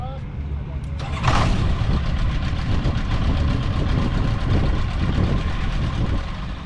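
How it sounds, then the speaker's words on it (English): A Rotax 912 aircraft engine on a light aircraft at a grass airfield runs with a steady, loud mid-pitched drone after a brief burst near the start, continuous and close for the whole stretch. "One thing that's really nice about the Rotax 912 is that it starts so easy"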